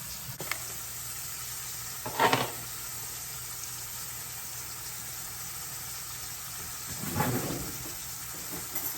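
A beef pot roast sears in a hot pan with a steady, close sizzle. Two brief louder bursts of spitting and shifting break the constant frying hiss, and no one talks.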